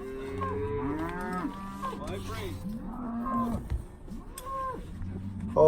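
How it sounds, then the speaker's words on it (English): Cattle, including a cow and calves out on a range roundup of mavericks, moo repeatedly, their long bellowing calls overlapping and rising and falling in pitch at moderate distance over a faint background. "Means there's probably another cow around."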